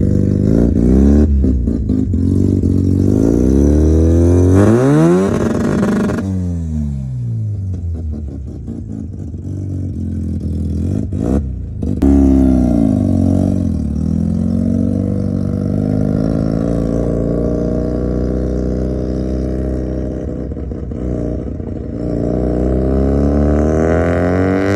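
A Mazda RX7 with a large street-ported 12A rotary engine and Holley Sniper EFI revs hard during a ride-along, loud and close, climbing and dropping through the gears with a sharp gap midway and no talking.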